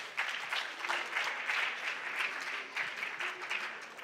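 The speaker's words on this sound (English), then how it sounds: "Please clap for him." A school audience at a junior science and maths quiz championship claps for a contestant, a steady patter of many hands in a hall, moderately close and sustained throughout.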